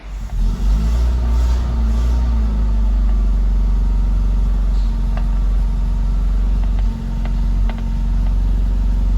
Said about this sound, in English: We're gonna try the first fire on this Volvo to see what she does.